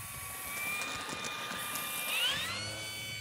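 An E-flite 1.5 m P-51 RC model plane takes off at quarter to half throttle, its high electric motor whine steady and loud before rising in pitch as it climbs away.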